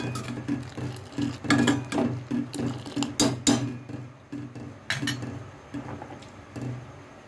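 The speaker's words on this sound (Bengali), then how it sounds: "এবার নারকেলটাকে কুড়িয়ে নেব" Fresh coconut being scraped on a hand grater for homemade coconut ice cream, a series of rhythmic close scraping and clattering strokes with short pauses, with faint kitchen clinks between them.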